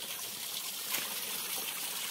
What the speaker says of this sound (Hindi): देख रहे हो यहाँ से पानी बहा रही है